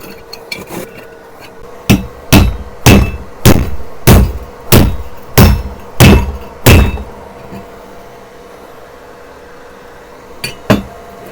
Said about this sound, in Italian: Adesso proviamo a martellarlo, vediamo quanto resiste.